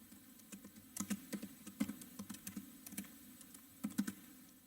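Code for a BMI calculator written in D is typed on a computer keyboard. The keys tap quietly but steadily in quick runs over a faint background hum, and no one speaks.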